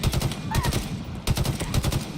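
Rapid automatic gunfire in the Halo Infinite video game, dense repeated bursts of close, loud shots with brief gaps between volleys.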